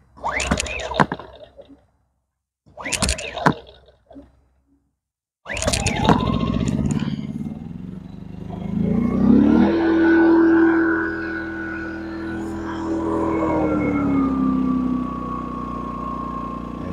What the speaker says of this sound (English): Let's fire up the generator.